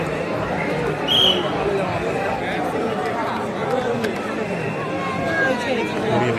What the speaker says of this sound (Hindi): तो इतना भीड़ है, आप लोग देख सकते हो।